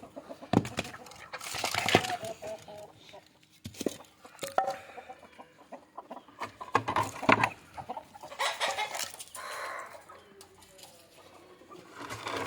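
Free-range country chickens, one of them lame, cluck and coo on and off over several seconds, nearby, with scattered rustling and occasional faint background noise.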